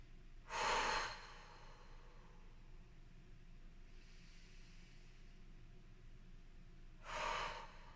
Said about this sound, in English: 2 breaths here in downward dog